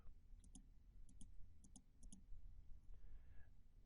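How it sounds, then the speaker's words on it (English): A computer mouse gives four quick double clicks, each a crisp pair of taps, spread evenly over a few seconds against a quiet room. "So you're going to double click on blank map."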